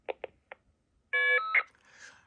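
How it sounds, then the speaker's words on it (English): A telephone line giving voicemail indication FSK tones under the ETSI standard: several short separated beeps, then a loud steady warbling tone burst lasting about a third of a second, followed by a short tone and faint noise. "you can hear that voicemail FSK sounded different"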